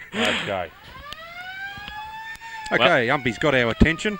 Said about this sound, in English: Away goes the whirring siren.